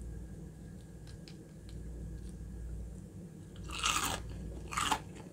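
Crunchy Popeyes fried chicken nuggets being bitten, two sharp crisp crunches near the end over a quiet room hum, close to the mic.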